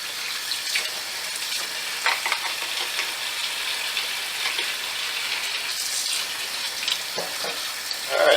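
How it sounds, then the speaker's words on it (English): Tap water runs steadily into a jug being rinsed out at a kitchen sink after making almond milk, a continuous close splashing hiss that shifts slightly as the jug moves, ending with a brief louder splash. "let me rinse this off"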